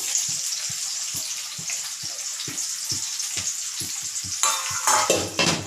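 Onions and green chillies fry in oil in a kadai, sizzling steadily while a spoon stirs and scrapes in a regular rhythm of sharp knocks. Near the end the sizzle swells louder.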